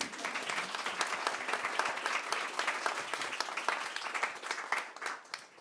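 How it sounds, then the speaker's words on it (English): An audience at a climate centre launch applauds the panelists: steady, dense clapping from a room full of people, sustained throughout before it starts to thin at the end. "I'm going to suggest we clap each panelist if we feel like it, really."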